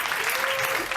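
A comedy-night audience applauds the technical and bar staff, a dense, steady wash of clapping that fills the whole second without a break.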